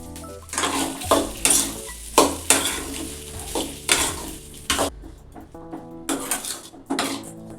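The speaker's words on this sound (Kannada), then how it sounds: "ಇವಾಗ ರೈಸ್ ಎಲ್ಲ ಮಿಕ್ಸ್ ಮಾಡ್ಕೋತೀನಿ" Seasoned rice with salt being stirred and mixed in a pan, a steady run of scraping, rustling spoon strokes with soft sizzling, close and fairly loud, over a faint tonal background.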